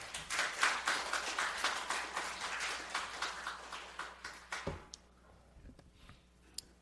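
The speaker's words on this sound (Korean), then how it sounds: "박수 한번 칠까요?" A church congregation claps in a quick, fairly faint rhythmic burst after a sermon lecture, each clap distinct, fading out after about four and a half seconds into near-quiet with a few stray sounds.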